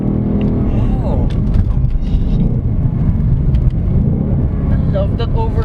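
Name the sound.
V8 sports car engine over-revving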